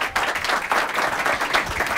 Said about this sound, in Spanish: Un aplauso para los solteros que están hoy en la casa.